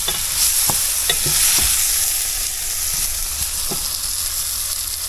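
Moose meat sizzles and spatters in hot oil in a stew pot, a loud bright hiss with sharp crackles and the knock of stirring against the pot, close and without talk.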